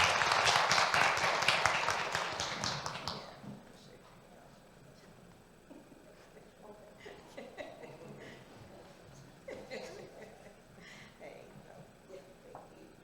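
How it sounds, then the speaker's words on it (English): Brief audience applause at a youth racial equity presentation, a loud burst of clapping that fades after a few seconds into quieter room sounds, scattered chuckles and talking. "Give her applause."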